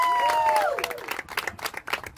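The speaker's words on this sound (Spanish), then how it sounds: "Un aplauso para ustedes." Audience applause at an award ceremony for children's categories, a burst of clapping with a brief falling tone at the start, close and fairly loud, fading over two seconds.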